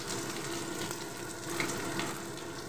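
Onions fry in hot mustard oil in a wok, making a steady, dense sizzle that holds even throughout with no voices.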